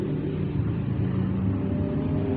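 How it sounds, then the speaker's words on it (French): A continuous engine drone of motorcycles passing nearby, rumbling steadily for a couple of seconds without a break. "Oh les motos là."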